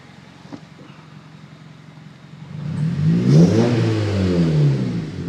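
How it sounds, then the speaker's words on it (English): A Honda Civic Si with a Skunk2 MegaPower cat-back exhaust is revved, starting from a quiet idle and then climbing into a loud, rising engine roar that holds near the end. "Do a couple revs."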